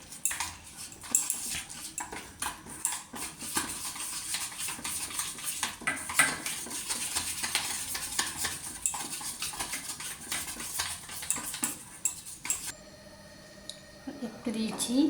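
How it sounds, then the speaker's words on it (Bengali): A spatula scrapes and clinks repeatedly against a pan while stirring a lentil, egg and tomato mixture with Kashmiri chili powder and garam masala, busy close metallic knocks, with a dog barking faintly near the end. "দিয়ে এটাকে ভালো করে"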